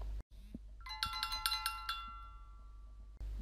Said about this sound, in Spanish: te va a llegar una notificación como la que a continuación te voy a poner en un pequeño vídeo y que vas a poder escuchar